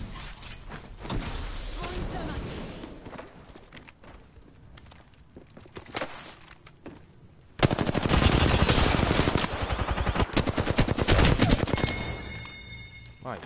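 Rapid bursts of gunfire from an Apex Legends firefight, sporadic and mid-distance at first, then a dense, loud stretch of sustained automatic shooting in the second half, with a voice talking over parts of it.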